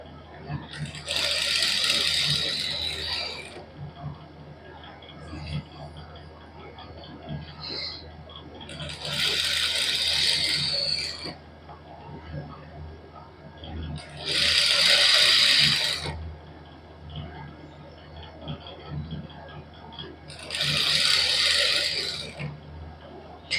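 Sewing machine stitching lace onto a suit fabric, running in four even bursts of a few seconds each separated by pauses, close and steady, with a low background hum between runs.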